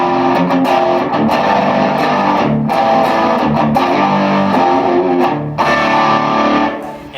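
A loud, heavily distorted electric guitar through layered overdrive pedals plays thick, saturated chords continuously, with a dense, fuzzy rock tone and brief gaps between strums.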